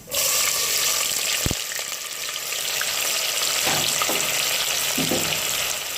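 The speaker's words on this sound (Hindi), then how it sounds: "ये हमारा ज़ीरा ब्राउन हो चुका है, ये देखें। अब इसमें प्याज डाल देते हैं।" Chopped onions hit hot oil with browned cumin seeds for zeera aloo, setting off a loud, continuous sizzling hiss that holds steady throughout, with a few soft stirring scrapes underneath.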